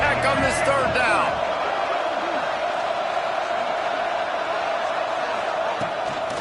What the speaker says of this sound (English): Guns up, and so is the noise. The crowd electric trying to help Tech on this third down.